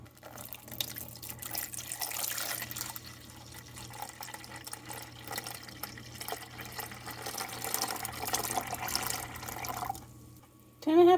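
Non-alcoholic beer is poured into a container for making cold-process soap, giving a steady liquid trickle and splash throughout, with a low constant hum underneath and a louder clatter at the very end.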